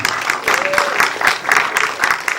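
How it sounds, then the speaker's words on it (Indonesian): A crowd applauds at a press conference for an animated film, with brisk, rhythmic clapping from a group of people, near and moderately loud throughout. "Tepuk tangan untuk kita semua."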